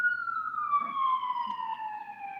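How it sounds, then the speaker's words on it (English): Ambulance siren sounding steadily in the background, a single sustained wailing tone slowly falling in pitch, moderately loud and distant over low background rumble. "I don't know who got the ambulance in the background"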